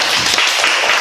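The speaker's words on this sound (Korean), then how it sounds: "우리 수고해 주신 우리 여전도의 성도님께 감사하고 박수 한번" Applause from a church congregation during a Sunday morning service, a dense burst of clapping filling the whole short moment.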